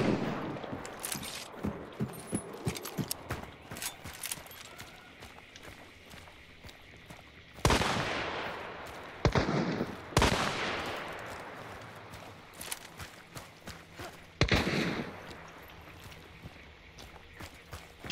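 Gunshots in the video game Hunt: Showdown, several sharp loud reports at irregular intervals with echoing decays, over footsteps and movement noises in between.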